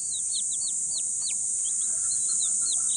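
Newly hatched chicks peep in quick, high, rising-and-falling calls, several chirps in a row, close by over a steady electric hum.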